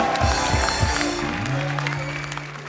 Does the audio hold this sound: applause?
yes